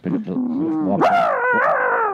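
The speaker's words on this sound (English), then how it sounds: "Nice dog you have there." Dog vocalizing close by in a continuous run of whining, yipping and howl-like barks with sliding pitch, loud and clear, lasting about two seconds.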